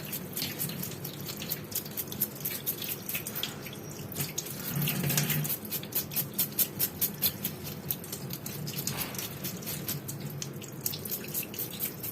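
A salmon block is rinsed under a running kitchen tap over a sink, with water splashing and gurgling close by, interrupted by handling noises and a run of rhythmic dripping splashes, and no voices.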